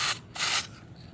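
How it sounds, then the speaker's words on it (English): Clear coat is sprayed from an aerosol can onto the underside of a homemade RV dining table, two short close hissing bursts separated by a brief pause, with faint mechanical rubbing between them. "So what we're doing is spraying this clear coat on here."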